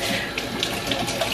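Water runs steadily from a sink tap, a continuous close hiss with small splashes spattering through it and no one speaking.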